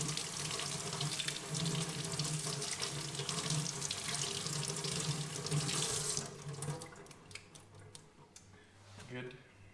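A jar is rinsed under a running kitchen tap, with a loud, steady splashing stream for about six seconds before the water stops and a few soft handling sounds follow.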